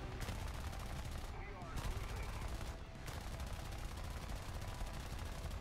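Aircraft machine guns fire in rapid, sustained bursts during a War Thunder dogfight against a Bf 109, loud and continuous with brief gaps between volleys.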